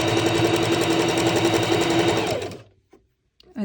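A sewing machine stitches fringes onto a garment with a fast, close, rhythmic mechanical chatter that runs steadily and then stops abruptly, leaving near silence with a faint handling sound at the end.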